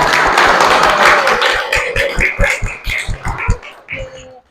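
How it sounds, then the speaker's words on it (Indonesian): Classroom applause for a pupil named Kayla during an Indonesian language lesson: a burst of children clapping, dense at first and then thinning into scattered, uneven claps that stop abruptly. "Tepuk tangan untuk Kayla."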